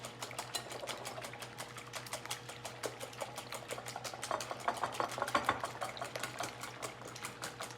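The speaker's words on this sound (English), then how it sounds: "The eggs, we want them to be light and fluffy, so I like to use a whisk because that incorporates more air into the mix." Eggs for a spring frittata are whisked quickly in a bowl, making a fast, even ticking rhythm of whisk strikes that stays fairly quiet and close, with no talking.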